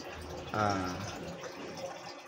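Water runs briefly from an improvised tap fed from a well, a short faint splash and trickle under quiet background noise.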